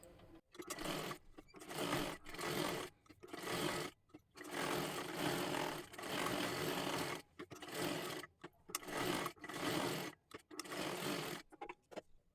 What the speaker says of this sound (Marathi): दोन्ही सुद्धा बाजूंना व्यवस्थित आपल्याला शिलाई करून घ्यायचं आहे